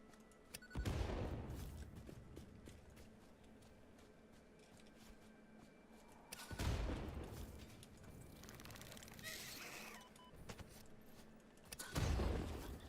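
Bomb explosions in the video game Satisfactory come as three separate loud, booming bursts, each decaying into a rumbling tail between quieter stretches of game ambience.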